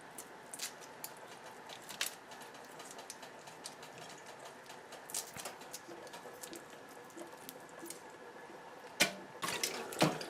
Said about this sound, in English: So it's time to clean our shrimp here now.